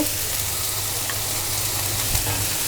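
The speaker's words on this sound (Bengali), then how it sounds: "এখানে আদা রসুন পেঁয়াজ বাটা একটু কষিয়ে" A ginger, garlic and onion paste sizzles steadily in a hot pan as it is sautéed, a close, continuous frying hiss with faint stirring and no talk.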